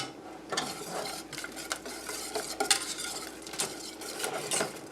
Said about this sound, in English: now the last thing I'm going to do is I'm going to stir in my cheese